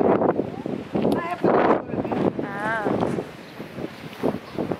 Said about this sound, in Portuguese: porque aqui tá ventando muito.